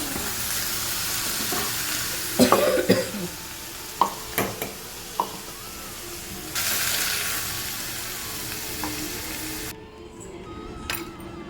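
Mint rice mixture sautéing in a pan gives a steady sizzle broken by several sharp clinks and scrapes of a utensil, then a brief watery rush before the frying fades quieter near the end.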